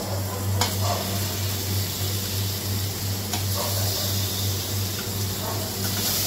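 Tikki patties frying in a hot pan during Navratri cooking, a steady loud sizzle with occasional crackles and a faint underlying hum.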